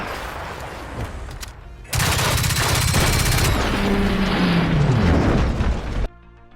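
Gunfire in the video game Generation Zero while taking down a two-story mammoth machine, a loud dense burst of shots and blasts that swells in the middle, then cuts off abruptly.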